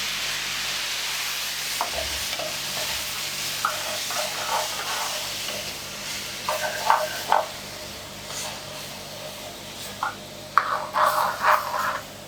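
A spoon stirs and scrapes through a thick yogurt mixture with water in a bowl, soft wet churning sounds over a steady hiss, with no talking.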